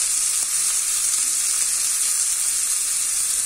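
Green chillies fry in a pan, giving a loud, continuous sizzling hiss close by that holds steady throughout without pause.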